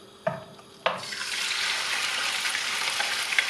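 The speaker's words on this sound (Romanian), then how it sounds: "Punem uleiul la încins într-o tigaie încăpătoare. Punem fășiile de pui" Chicken strips drop into hot oil in a large pan with two quick clatters, and a loud, steady crackling sizzle follows, close and continuous with no one talking.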